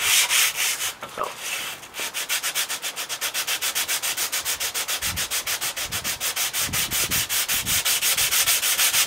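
A vintage crosscut hand saw blade is sanded by hand with 120 grit sandpaper, giving fast, even rasping back-and-forth strokes that stay loud and close throughout with no voices.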